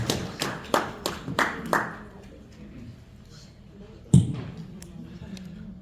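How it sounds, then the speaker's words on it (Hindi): At a poetry mushaira in Michigan, a handful of people clap to welcome a poet: several sharp, scattered claps in the first two seconds, then quiet room tone broken by a single loud thump. "अपनी तालियों से खिदमत में इनको इस्तक़बाल कीजिए"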